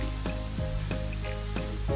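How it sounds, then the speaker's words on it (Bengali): Spice paste for a prawn curry fries in a pan with a soft continuous sizzle, broken by several quick scraping strokes of a spoon at a fairly even rhythm, close and moderately loud. "আমি সামান্য একটু ভেজে নিয়েছি।"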